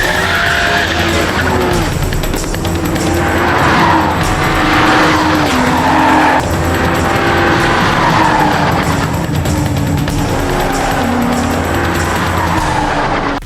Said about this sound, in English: The 2019 BMW Z4 M40i G29 is equipped with a 3-liter inline-six turbocharged engine, producing 382 horsepower.